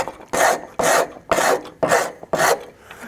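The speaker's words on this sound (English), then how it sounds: "I come in with the rasp to do the quick shaping" A hand rasp shapes wood in five rhythmic strokes, each a loud coarse scraping rasp separated by brief pauses, close up with no talking.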